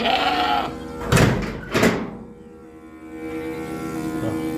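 Goats bleat loudly and close by, two sharp cries in quick succession amid a low farmyard hum.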